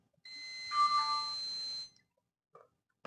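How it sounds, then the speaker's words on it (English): A digital clamp meter gives a single continuity beep tone that holds for about a second and a half, clear and close, followed by a faint click. "Now, if I do something like this, it's going to beep."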